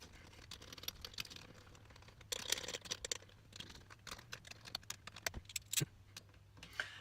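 Ratchet tightening shifter hold-down bolts during a Supra short shifter install: quiet, rapid clicking and ticking in uneven bursts, with occasional metallic taps and handling noise close by.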